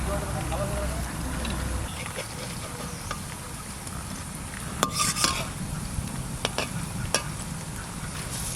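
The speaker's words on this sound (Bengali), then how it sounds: "অল্প অল্প করে ভেজে নেব" Pakoras frying in batches in hot oil give off a continuous loud sizzle, with a few clinks of a utensil against the pan and a voice speaking now and then.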